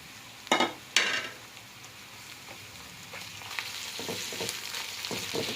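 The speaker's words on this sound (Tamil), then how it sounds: "இஞ்சி பூண்டு பேஸ்ட்டு இந்த ஸ்டேஜில் ஆட் பண்ணிக்கலாம்" Ginger garlic paste hits hot oil for an empty salna with two sharp splattering bursts, then settles into a steady sizzle with occasional scraping stirs.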